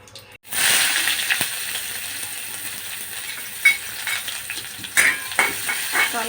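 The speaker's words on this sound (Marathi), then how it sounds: "यामध्ये आपण एक उबळी तेल घालूया जिरं मोहरी" Cumin and mustard seeds crackle and sizzle in hot oil in a home kitchen pan, a steady close hiss with sharp pops and occasional spoon clinks, no voices.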